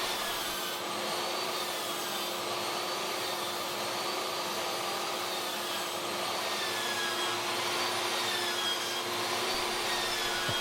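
A table saw rips thin wooden strips for building a kayak, giving off a continuous, even broadband roar at moderate distance with no break or change in pitch.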